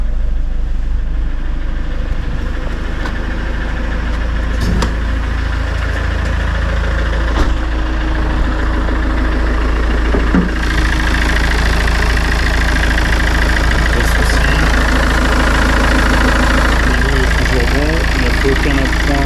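A 2.0 HDi 150 diesel engine in a Citroen C4 Picasso, just rebuilt after a failed head gasket, idles steadily after starting, a constant low rumble with a few light clicks and knocks, close and loud throughout.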